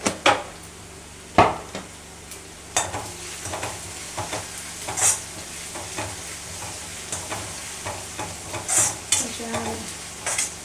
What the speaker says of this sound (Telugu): వేగేదాకా కొంచెం వెయిట్ చేద్దాం.